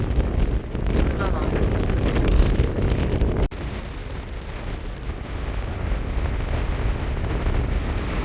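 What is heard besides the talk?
strong wind blowing at a beach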